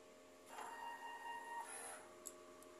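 A DTF printer runs a head clean cycle, giving a quiet mechanical whir with a faint whine for about a second and a half, then a small click, in an otherwise calm room.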